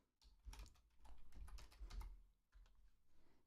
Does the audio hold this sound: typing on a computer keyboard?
yes